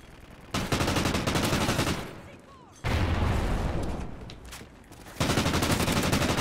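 Sustained bursts of Mtar submachine gun fire in Call of Duty: Ghosts on the Strikezone map, loud and close, come in three long rattling volleys split by short pauses, with a voice talking underneath.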